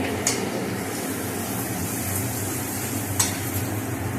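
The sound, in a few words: garlic frying in hot oil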